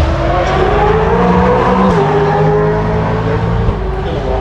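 Race cars at the Adelaide Motorsport Festival, a loud, steady engine roar from cars passing on the parkland circuit, shifting pitch as they go by, alone without talk.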